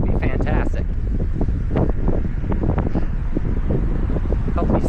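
Wind rushing across the microphone outdoors during a pre-duathlon run, a loud, close, steady buffeting roar with gusts and a voice speaking under it.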